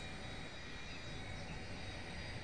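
Steady, continuous A-10 jet engine roar in the video game Blackhawk Rescue Mission 5, as the right engine starts, with a broad rushing drone that holds even throughout, no voices and no change in pitch.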